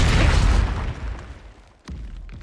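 A Confringo blasting spell detonates in Hogwarts Legacy, a single loud boom at the start that rumbles and decays, followed by a smaller pop near the end.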